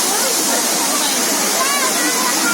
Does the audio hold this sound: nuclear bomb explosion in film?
no